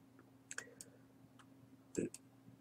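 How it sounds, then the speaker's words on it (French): Sharp computer mouse clicks while working in Clip Studio Paint, a few isolated clicks spread over a couple of seconds, with one fuller, louder click near the end, close and moderately quiet over a low steady hum. "Je clique dessus"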